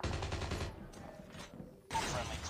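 A missile fired in the mobile shooter Call of Duty Mobile: a rapid rattle of gunfire gives way to a short whooshing launch, then a sharp loud blast near the end.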